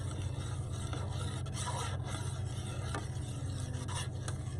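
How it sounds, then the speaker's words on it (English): A spoon scrapes and stirs a seafood poutine sauce in a pot as it heats toward a simmer, with a continuous low hiss and faint sizzle under repeated rubbing strokes. "I'm going to stir it around, and I'm going to let it come to a simmer"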